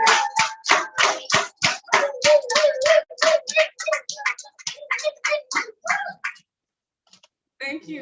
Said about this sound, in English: with a round of applause, can we welcome the newly wedded Toastmaster Amarachi.